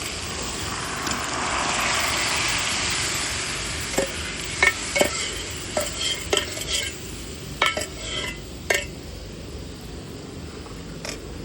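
Lentils sizzle and fry in a pan for a fish head curry. A steady hiss runs underneath while a utensil scrapes and clinks against the pan in irregular bursts, close and moderately loud.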